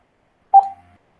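A single short telephone dialing tone sounds as a radio call-in show connects a caller, a clean steady beep lasting about half a second, alone and fairly loud against silence.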